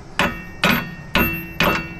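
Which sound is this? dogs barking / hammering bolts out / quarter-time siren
hammering bolts out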